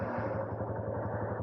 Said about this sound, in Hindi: कुछ आवाज़ सी आ रही थी ना इंजन में से, टॉप में से